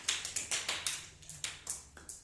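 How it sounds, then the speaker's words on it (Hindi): Children in a classroom clap for a classmate after a story answer, a quick, even run of about ten fairly quiet claps with no talking. "बहुत अच्छे, ताली बजाइए इनके लिए"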